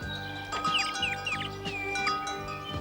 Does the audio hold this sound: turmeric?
no